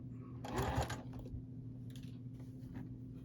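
A sewing machine stitches a seam on a log cabin quilt block in one short, fast, loud burst of needle clatter lasting about half a second, then settles into a low, steady background hum.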